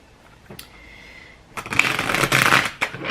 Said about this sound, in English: I did shuffle and cut the deck and everything